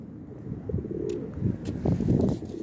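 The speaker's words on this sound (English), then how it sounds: "There's pigeons everywhere." Pigeons cooing outdoors in a town setting near a church, a steady run of low, soft coos with flutters of chirps, fairly close and moderately loud, with no talk.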